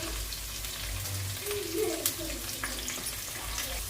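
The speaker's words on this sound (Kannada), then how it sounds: "ಆನಿಯನ್ ಸೇರಿಸ್ಕೊಂಡು ಆನಿಯನ್ ಕಲರ್ ಚೇಂಜ್ ಆಗೋವರೆಗೂ ನೀಟಾಗಿ ಫ್ರೈ ಮಾಡ್ಕೊಳ್ಳೋಣ" Chopped onions sizzle and fry steadily in an oiled pan for fried rice, a constant close crackle with a few stirring scrapes, no talking.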